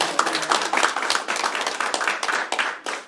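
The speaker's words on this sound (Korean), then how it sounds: "한 분 한 분 호명할 때마다 큰 박수로 환영해 주시면 감사하겠습니다" Audience applause welcoming a guest at a newspaper launch ceremony, a dense run of hand claps from many people in an indoor hall, steady and lively for about three seconds.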